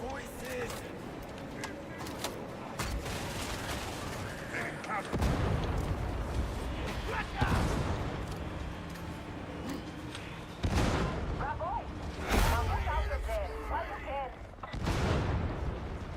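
Grenade launcher explosions boom again and again in The Division 2, several heavy blasts landing amid steady gunfire while a player talks over the fight.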